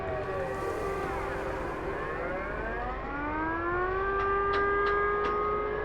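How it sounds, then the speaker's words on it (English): Several wailing air raid sirens, sounding in a test, rise and fall together, overlapping from a distance in a continuous mournful tone, with a few sharp clicks near the end. "it sounds like air raid sirens"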